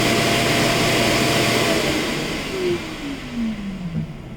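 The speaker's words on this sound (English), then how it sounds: "as soon as it arrives back to its power dock, like I said, it auto empties into the larger vacuum bag." A Dreame X50 Ultra robot vacuum's dock auto-empties its dust bin with a loud, close whooshing suction roar, followed by a motor whine that sweeps downward in pitch as it winds down, no speech.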